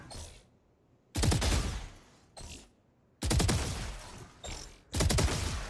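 Bursts of gunfire in a Valorant tutorial as robot targets are shot: three or four sharp volleys of rapid shots, each lasting about a second, separated by short quiet gaps, close and alone with no talk.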